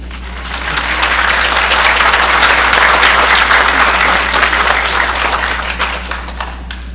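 A crowd at a Black History program of the Prince Hall Masons applauds loudly, the clapping swelling in, holding strong and then tapering off slightly, with a low steady hum beneath.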